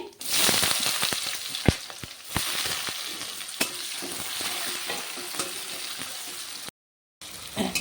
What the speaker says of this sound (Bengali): এখন আমি পেঁয়াজ অল্প ভেজে নেব